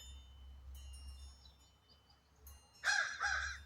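A crow caws outdoors, a few faint, distant calls followed by two louder, nearer caws over a low steady background hum.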